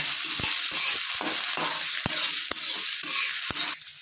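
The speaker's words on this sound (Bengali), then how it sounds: "এই যে পেঁয়াজ, রসুন, এইগুলো একটু লাল লাল করে ভেজে নেব" Onion and garlic fry in a pan with a bright, continuous sizzle, broken by several regular clicks of a spoon against the pan as they are stirred, close and with no voices.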